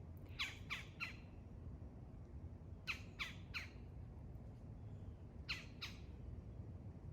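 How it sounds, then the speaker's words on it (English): Loud, sharp calls from a woodpecker high up outdoors, coming in short clusters of two or three harsh squawks separated by pauses, over a steady low background rumble. "It's a very loud woodpecker up there."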